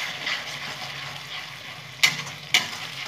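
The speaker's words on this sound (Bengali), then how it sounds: "এখানে কাশ্মীরি মির্চি, ভালো করে মশলাটা কষিয়ে নেব।" Spice masala with Kashmiri chilli frying in a pan for gandharaj chicken, a steady close sizzle punctuated by two sharp metallic stirring clicks near the end, no talking.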